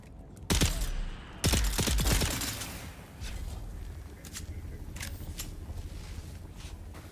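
Bursts of gunfire in Dune: Awakening, two loud close volleys of rapid shots in the first two seconds, then scattered fainter distant shots over a steady background rumble.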